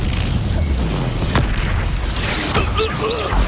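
A Confringo fire spell bursts with a loud booming blast in Hogwarts Legacy combat, set against dense battle noise, with voices and spell shouts around it.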